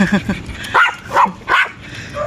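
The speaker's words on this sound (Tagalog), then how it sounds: "ang daming aso dito. Kamaingay" Several dogs bark in short, loud yips and barks at a seaside pier, with a few bursts spread across a couple of seconds over outdoor background noise.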